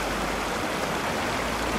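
A mountain stream near Puigmal peak in the Pyrenees rushes steadily as water is collected, a close, even wash of running water with no voices.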